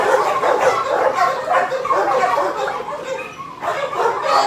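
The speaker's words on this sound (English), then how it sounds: "I'm just going to walk you down some of the dogs so you can see what I'm talking about" Several dogs bark, yip and whimper continuously at a shelter kennel row, a busy overlapping chorus at moderate distance with no speech over it.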